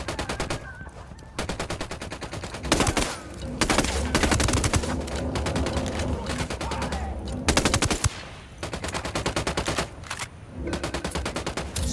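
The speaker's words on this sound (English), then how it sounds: "Opening fire." Automatic weapons fire in the Ghost Recon Wildlands shooter game comes as loud, rapid bursts of machine-gun shots, with several long sustained volleys separated by brief pauses.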